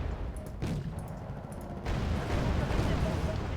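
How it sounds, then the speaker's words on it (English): Artillery fire in the Wargame Red Dragon video game, during a Second Korean War campaign mod: a dense, rumbling barrage of booms that grows heavier and fuller about halfway through, with no clear breaks. "There's the artillery."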